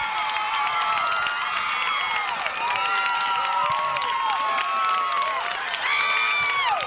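A high school football crowd in a 1990 Calhoun City vs Vardaman game roars after a Rams touchdown run, a dense, sustained wash of cheering, whoops and shouts from many voices, loud and continuous throughout.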